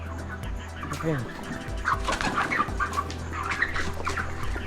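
Chickens at a poultry farm on a wet night after rain, sounding as a dense, continuous chorus of clucks and squawks over a steady low mechanical hum.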